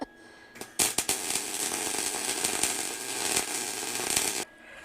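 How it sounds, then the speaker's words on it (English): Gas welding in a shed: a harsh, steady crackling hiss runs for about four seconds between a few sharp clicks and pops at the start, then cuts off abruptly, close and fairly loud with no talking. "Welding again."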